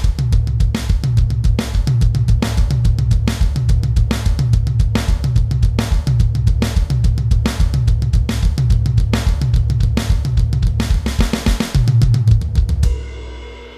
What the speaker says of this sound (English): I do a fill, and it is literally just triplets still, keeping that bass drum going and moving around the drum kit